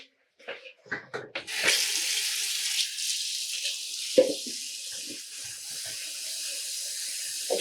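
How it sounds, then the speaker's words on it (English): Water from a tap pours steadily into a pot prepared with citric acid for dyeing yarn, a continuous hissing rush after a few clinks and knocks, with one sharp bump partway through. "And we're going to add 3 liters of water."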